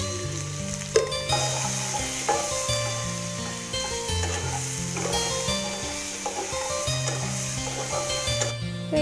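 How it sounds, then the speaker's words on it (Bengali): Cut potato pieces fry in oil with salt and turmeric, producing a loud, continuous close sizzle with occasional spatula scrapes and clinks against the wok. "এবার এই তেলের মধ্যে আগে থেকে টুকরো করে কেটে রাখা আলু, এগুলো আমি ভেজে নিচ্ছি একটু লবণ আর হলুদ দিয়ে।"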